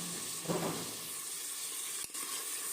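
Water poured into frying masala for an aloo matar curry sets off a steady, faint sizzle and hiss in the pan, with a brief splash early on and no talking.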